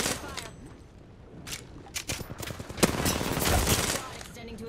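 Gunfire in the Apex Legends video game, bursts of rapid shots growing denser and louder over the last seconds, mixed with game effects and voice callouts.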